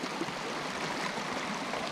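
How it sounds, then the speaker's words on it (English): A big waterfall pours into a stream along the Continental Divide Trail, a constant broadband rush and splash of water with no pauses, filling the whole soundscape. "Got a big old waterfall coming down,"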